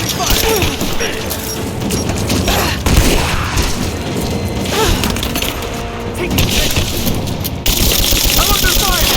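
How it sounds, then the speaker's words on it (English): Intense gunfire in the video game Rise of the Tomb Raider, loud continuous automatic bursts and booming impacts, with shouted voices of soldiers calling out over the battle. "I'm under fire! They're out! I'm taking fire!"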